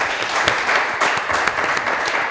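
Studio audience at a game show in Lubumbashi applauding a contestant, a steady wash of clapping that stays fairly loud and even throughout, with no voices on top.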